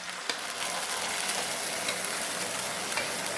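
Soaked semolina goes into melted, caramelized sugar in a pan and is stirred, giving a loud, steady hiss and sizzle with light scraping, close up and without any talking.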